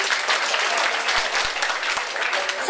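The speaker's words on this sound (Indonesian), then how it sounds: "Kita tepuk tangan buat Mbak Moni." An audience at a high school student council election event claps for a candidate, with dense, steady clapping filling the whole stretch, close and loud, with a few sharp thumps.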